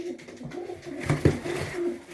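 Soft cooing of a tumbler pigeon, a couple of low throaty coos rising briefly above a quiet, steady background hum.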